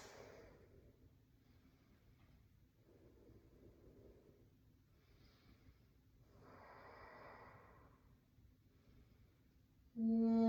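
Slow, deep breathing during a prenatal yoga pose, faint and steady with soft repeated inhales and exhales, then a sudden louder sound right at the end.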